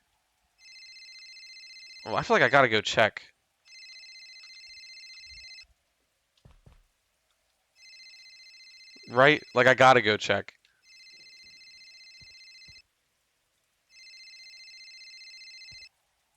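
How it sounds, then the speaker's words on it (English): A basic electronic phone ringtone rings in a spooky point-and-click game, repeating in evenly spaced bursts of steady multi-tone beeping with pauses between, while someone talks over two of the bursts. "This is the most basic ringtone ever."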